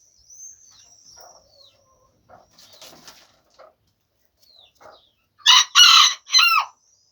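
Chickens cluck softly and sparsely for a while, then a rooster crows loudly and close by near the end.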